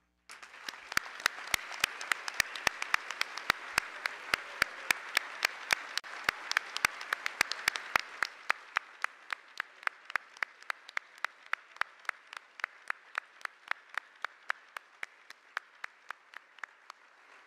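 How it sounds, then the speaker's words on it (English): Gala audience applauds award nominees, a fuller wash of clapping for about eight seconds before thinning out to a few sharp, spaced individual claps that continue rhythmically to the end. "Please join us in congratulating all of the nominees with a hearty round of applause."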